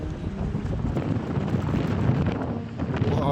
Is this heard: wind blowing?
yes